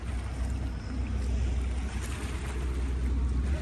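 A boat pulls away from a port on Rhodes, Greece, with a steady, loud low engine rumble and water wash running throughout, no voices over it.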